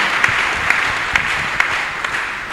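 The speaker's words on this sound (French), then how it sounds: "Clap for Jesus Christ." A church congregation claps for Jesus Christ at a healing service, a dense, steady burst of applause from many hands with a few sharper claps standing out.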